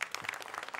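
Audience applause at a Georgian league festival performance, a brief burst of dense clapping heard close.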